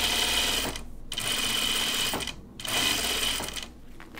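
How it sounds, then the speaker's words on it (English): A domestic sewing machine stay stitching along the cap of a shirt dress sleeve, running in three close bursts of rapid whirring with brief pauses between them. "we're gonna add our stay stitch along the cap"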